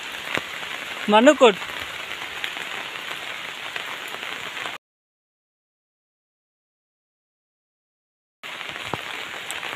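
Heavy rain pours steadily as a dense, even hiss, with a brief voice early on. The sound drops to silence midway, then the downpour returns.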